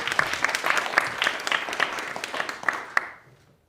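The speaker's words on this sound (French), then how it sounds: "on peut l'applaudir" Audience applause closing a French digital-technology talk, a short burst of clapping with distinct sharp claps standing out, fading out after about three seconds.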